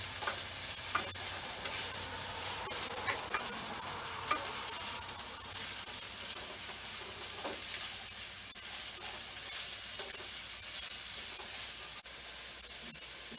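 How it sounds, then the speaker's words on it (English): Fiddleheads sizzle steadily in a hot pan, a continuous close frying hiss with occasional soft clicks and stirs as they are tossed, and no voices. "since it's so hot and it's sizzling there"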